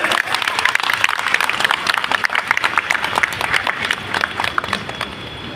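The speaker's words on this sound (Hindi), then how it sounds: "सभी ताली बजाएं" Wedding guests at a Buddhist-style ceremony clap loudly and steadily as a crowd, a dense run of sharp claps lasting several seconds.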